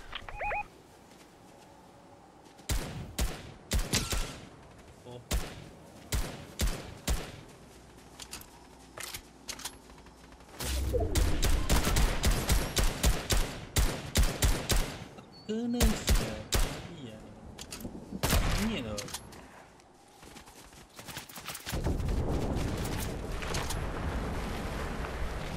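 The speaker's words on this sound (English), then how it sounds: "Ada orang pakai sniper juga." Rapid gunfire, including sniper rifle shots, in Fortnite Reload: sharp bursts and single cracks scattered through the match, some in quick clusters, heard over game sounds and occasional talk.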